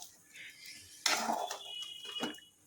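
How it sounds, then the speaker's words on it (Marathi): Fried idli pieces stirred in a pan, a sudden loud scrape and clatter of utensil against metal followed by softer repeated scraping and stirring sounds. "आता टाकते हे इडलीचे तुकडे याला छान मस्तपैकी मिक्स करून घेते"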